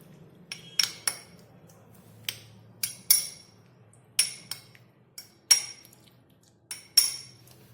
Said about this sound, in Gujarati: તેમાં પણ આપણે અડધી નાની ચમચી જેટલો કલર એડ કરીશું અને સારી રીતે મિક્સ કરી લઈશું